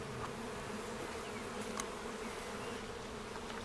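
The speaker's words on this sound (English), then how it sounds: "the bees are shaken onto a sheet of plastic" A sample of honeybees, shaken onto a plastic sheet for mite-resistance testing, gives off a dense, steady buzz close by, with a few brief rustling taps on the plastic and no talking.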